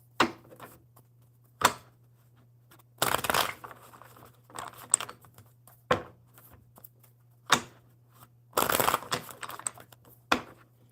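A deck of playing cards is shuffled in repeated short bursts, crisp riffling rattles separated by pauses, over a faint steady hum.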